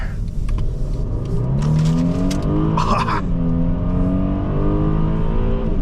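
A 2015 Mercedes-Benz E350 4MATIC taking a tight corner, heard from inside: a steady engine drone whose pitch rises and falls, with a brief whoosh of road noise midway.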